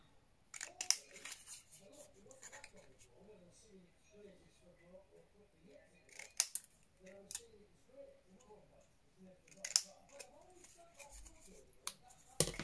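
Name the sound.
cutting paper pieces with scissors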